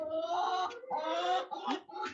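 Backyard chickens cluck and call close by, in a steady, busy run of overlapping bird sounds with no talking.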